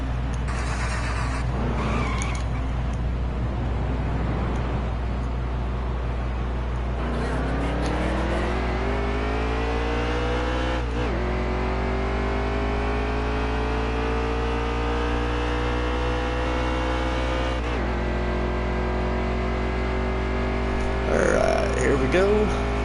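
A race car engine in NASCAR Heat 3 runs in practice mode on a 1.5-mile speedway. Loud and steady, it revs up in long rising sweeps, with a few quick drops as it shifts gears, and keeps droning throughout.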